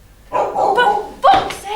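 A dog gives a couple of loud, close barks that carry a whining edge, overlapping with a voice.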